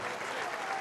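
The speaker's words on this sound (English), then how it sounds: "The applause you're hearing down there is for Noah Stevens" Rugby league stadium crowd at a Super League match between St Helens and Catalans Dragons applauding an interchange player leaving the field, a steady wash of distant clapping heard through the whole short moment.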